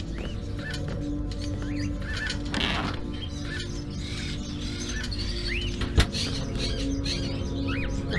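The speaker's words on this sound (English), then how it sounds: "The bird is such a unique animal. Can spend its entire life locked up in a cage and yet still keep on singing away." Caged bird singing in Fahrenheit: Indigo Prophecy, a series of short, high, repeated chirps scattered through the passage over a constant low background hum, fairly faint against the ambience.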